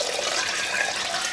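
Water poured into a pot of brown sugar for a cinnamon syrup, a steady splashing rush with no break over its short span and no voices.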